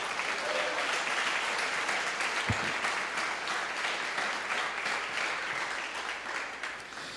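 A church congregation claps steadily for Jesus during a sermon, a continuous wash of applause from many hands that stays even throughout, with no speech over it.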